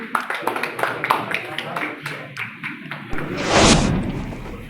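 Crowd applause at an annual general meeting and felicitation ceremony: a run of distinct, fairly close hand claps that fade out, then a brief loud rushing burst near the end, with speech present.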